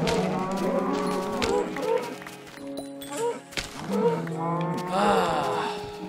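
Minecraft cows mooing repeatedly in long drawn-out lowing calls that overlap one another, loud and close, with thuds of hits and a player's voice talking at times.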